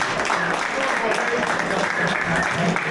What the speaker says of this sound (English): Big round of applause to Robbie.